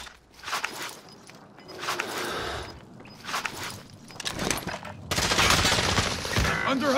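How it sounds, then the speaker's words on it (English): Bursts of automatic gunfire in a Call of Duty: Modern Warfare match, rattling volleys in several waves with footsteps and debris between, growing into a dense sustained barrage at the end; no speech in the clip. "Under hostile fire."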